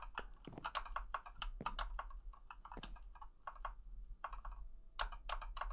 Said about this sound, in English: you can just hear my keyboard as I'm smacking away the shift key